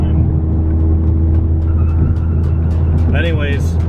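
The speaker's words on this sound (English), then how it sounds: "as soon as I get on the throttle to accelerate, it's like I want it to be loud when I want it to be loud" A Saab 9-3 with a newly fitted exhaust pulls and accelerates, its engine drone loud and steady and close up, with a brief skid-like squeal near the end.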